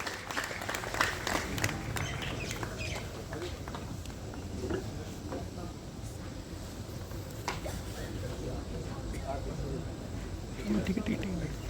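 Audience applause at the inauguration of a charitable hospital's MRI and CT scan centre, a steady crowd clapping that holds evenly throughout at moderate, slightly distant level.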